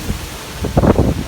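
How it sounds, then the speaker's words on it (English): Strong outdoor wind buffeting the microphone in a yard with chopped stone landscape islands, heard as loud low rumbling gusts that swell toward the end, with no talking. "Really windy out here today."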